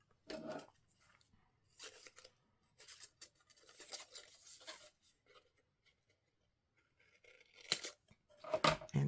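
Paper for a scrapbook album being scored with a tool in several short, scratchy bursts, quiet and close, separated by pauses and ending with a couple of sharper clicks.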